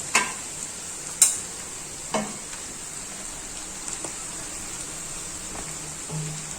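Boiled rice with chicken pieces in a hot pan for fried rice is stirred, a soft steady sizzle broken by a few sharp scrapes and taps of the spoon against the pan, close and without talk.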